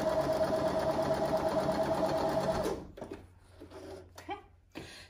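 A sewing machine stitches fabric for a patchwork block, running in a fast, steady close whir for under three seconds, then stopping, followed by quiet handling clicks and rustles.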